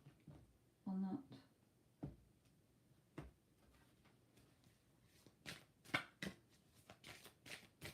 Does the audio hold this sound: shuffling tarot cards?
yes